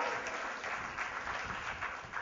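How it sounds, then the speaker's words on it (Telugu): A church congregation claps in praise during a sermon, a dense continuous patter of many hands at moderate distance, sustained evenly for a couple of seconds with no voices over it. "చప్పట్లు కొట్టి దేవుని స్తుతించండి."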